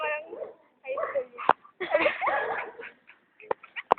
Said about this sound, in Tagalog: Hindi lang mga aso dito mga nakatali.